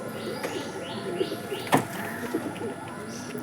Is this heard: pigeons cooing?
yes